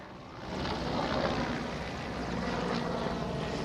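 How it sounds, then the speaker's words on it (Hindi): A prime minister's helicopter arriving at Manjari in Pune, its rotor and engine drone rising within the first half second and then holding steady and fairly loud throughout. "प्रधानमंत्री नरेंद्र मोदी यहाँ पुणे के मांजरी इलाके में उनका चॉपर पहुँच चुका है"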